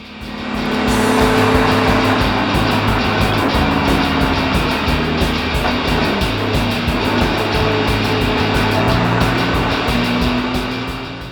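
A Jaguar race car engine roars loud and close throughout, revving steadily at high pitch as it drives hard around a track.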